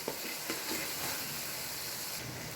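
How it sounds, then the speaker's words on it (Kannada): Vegetables for kurma sizzling and frying in a pan, a soft continuous hiss with occasional stirring scrapes, fairly quiet and without any voices. "ಇದನ್ನು ಸ್ವಲ್ಪ ಚೆನ್ನಾಗಿ ಫ್ರೈ ಮಾಡಿ"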